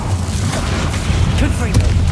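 Bombarda blasting spell in Hogwarts Legacy going off as a deep, rumbling boom, a sustained low roar that swells slightly near the end, with game combat noise layered over it.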